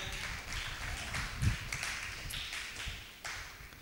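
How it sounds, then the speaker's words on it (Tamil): A church congregation at a Tamil Christian service claps its hands together, a dense, steady crackle of many hands that carries on for several seconds. "நல்ல கரங்களை தட்டுங்களேன்."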